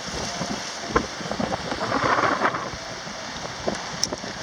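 Strong wind of about 30 miles per hour gusting at Venice Beach, a steady loud rush buffeting the microphone with brief gusty peaks, no talking heard.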